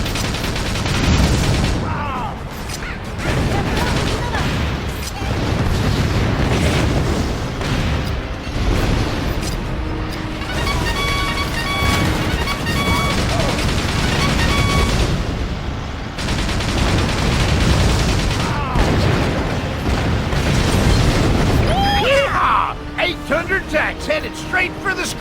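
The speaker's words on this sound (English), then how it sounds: "They're shooting at the commander." Constant gunfire and booming explosions fill a GameCube Battalion Wars battle, dense and loud throughout, with a voice talking over the combat.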